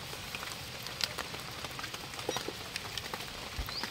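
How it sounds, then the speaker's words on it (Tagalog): Heavy typhoon rain pours down steadily outdoors, a dense, even hiss of drops pattering on surfaces with occasional louder splats, fairly faint and with no talking. "Grabe lakas ng ulan"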